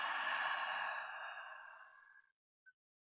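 A long, soft exhale during yoga breathing, steady and close, fading out gradually over about two seconds, followed by a tiny faint click.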